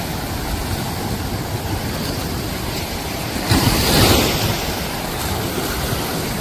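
Rough, choppy sea waves where a river meets the sea off the last inhabited island of the Sundarbans, a dense continuous roar with wind buffeting the microphone, swelling louder midway, no talking.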